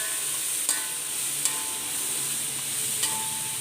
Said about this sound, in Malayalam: സവാള കിടന്നൊന്ന് മൂത്ത് വരട്ടെ.